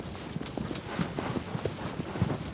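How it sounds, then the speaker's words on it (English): A horse gallops over grass in the video game Shadow of the Colossus, giving a steady, soft drumming of hoofbeats in quick repeating clusters, fairly close and up front with no talk over it. "The fact a horse's galloping sounds different when we're traveling over grass"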